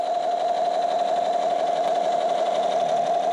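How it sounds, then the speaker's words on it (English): A Star Wars toy gun's electronic sound effect: a steady, loud, buzzing whir that holds unbroken for about three seconds, close up, with no voices. "Lights and sound toy gun."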